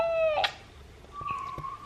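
A kitten meows indoors at home, a short high cry followed by a second, longer mew, both moderately close and alone without talk.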